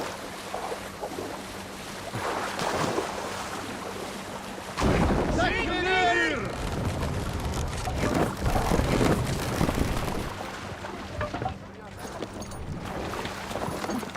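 A boat sails over open water in Assassin's Creed Valhalla, with rushing waves, wind and creaking under game voices and a player's talk.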